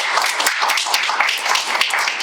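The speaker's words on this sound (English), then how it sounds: "this is Matthew, if we can give him a huge round of applause." An audience claps for an actor at a creative conversation event, a dense, lively patter of hands sounding close and loud throughout the short stretch.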